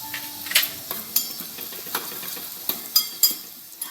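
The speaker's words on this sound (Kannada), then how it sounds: "ಈಗ ಮೊದಲು ಇವನ್ನ ಫ್ರೈ ಮಾಡ್ಕೊಳ್ಳೋಣ" Ingredients for sooji idli and chutney fried and stirred in a pan, with a soft steady sizzle broken by a string of sharp clicks and scrapes from a spoon against the metal.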